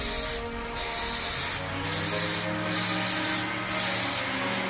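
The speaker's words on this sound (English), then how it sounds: "You wanna have the spray hitting it from different spots if you can." Spray can applying Plasti Dip to a 2018 Mustang GT, several loud hissing bursts separated by brief pauses, close by with no talking.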